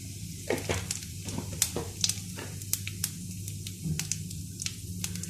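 Cardamom, cloves, a little coriander and cumin fry in hot oil for kadai chicken, crackling and popping in quick irregular spits over a low, steady sizzle.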